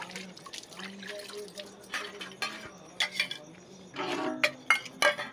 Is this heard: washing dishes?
yes